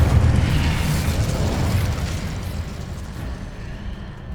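An Incendio fire spell cast in Hogwarts Legacy bursts into a loud, sustained roaring whoosh of flame that fades gradually over several seconds, heard close and alone with no voices.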